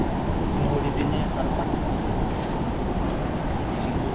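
Strong wind buffets the microphone at a Taiwan seashore during a fishing outing, a loud, continuous low roar with surf-like rushing and no distinct breaks.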